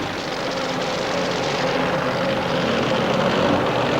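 Two Keith Black-powered AA altered drag racing cars of roughly 484 to 490 cubic inches roar together at the 1990 Winternationals at Willowbank, Australia, a loud, continuous, dense engine blare that holds steady throughout.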